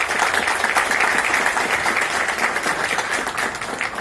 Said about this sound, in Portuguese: pedimos uma salva de palmas para Paulo Bretas